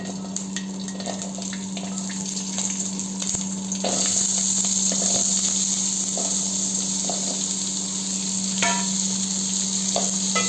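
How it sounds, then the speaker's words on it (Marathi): Onion and garlic fry in a pot for misal pav, giving a steady, close hiss that grows louder and fuller partway through, with occasional soft clicks and scrapes and no talking. "आता ह्याच भांड्यामध्ये आपण कांदा लसूण फ्राय करून घेऊया"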